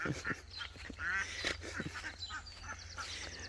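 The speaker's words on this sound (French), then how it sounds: "je vais vous emmener ouvrir les canards" Several ducks quack and honk in bursts nearby, overlapping calls of varying pitch over a low background hum.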